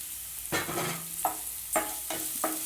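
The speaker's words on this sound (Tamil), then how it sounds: "ஒரு நிமிஷம் நல்லா வதக்குங்க." Tomato, capsicum and red chilli being sautéed in a pan, with a steady sizzle broken by several distinct scraping stirs of a spatula at irregular intervals, close and moderately loud, no voices.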